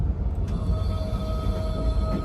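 A moving train on a first class journey to Kerala gives a steady low rumble with a faint whining hum inside the carriage, and no talk.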